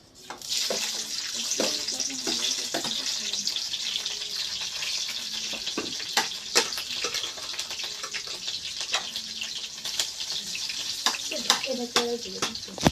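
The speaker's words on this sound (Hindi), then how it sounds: "तेल मेरा हीट हो गया है तो मैं डाल देती हूँ लहसुन मिर्चा।" Garlic and chili sizzling in hot oil in a village home kitchen, a steady hiss with crackling pops that flare louder toward the end, with a voice talking briefly in the background.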